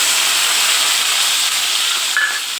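Tomatoes land in hot oil in a heated pan and hiss steadily. The sizzle is loud, dense and close, and holds for the whole moment before cutting off.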